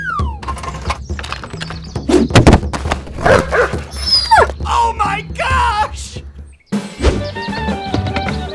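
A cartoon dog barks and whimpers in short bursts among lively voices and animated sound effects.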